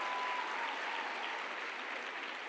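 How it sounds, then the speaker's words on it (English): Steady applause from a dinner audience for an honoree, sounding distant and fairly soft, a continuous wash of clapping with no voices over it. "Can we please applaud Janie?"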